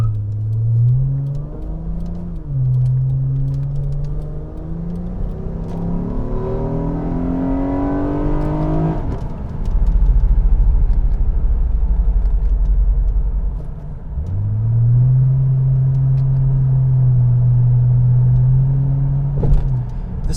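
A 2007 Acura TL Type S with an aftermarket XLR exhaust revs loudly and close up, its engine note climbing in several rising sweeps, dropping to a deep low rumble, then settling into a steady, throaty idle-like drone.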